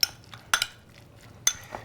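Salmon tartare mixed in a bowl, a few sharp clinks of a utensil against the bowl spaced across under two seconds, with soft scraping between them, close and quiet.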